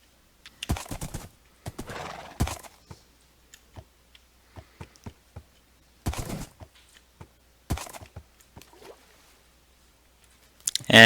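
Sparse clicks and short rustling bursts from a horse in the video game Minecraft, with faint whinny-like sounds among intermittent taps in otherwise quiet game audio; no voice is heard.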